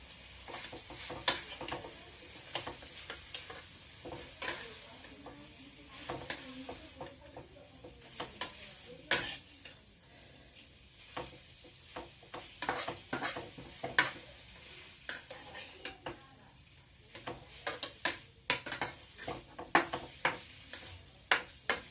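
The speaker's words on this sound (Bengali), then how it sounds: "খুব নাড়াচাড়া করে নিতে হবে ভালো করে" Chowmein being stirred in a pan, with sharp clinks and scrapes of the utensil repeating irregularly through a soft background sizzle, close and fairly quiet, with no talking.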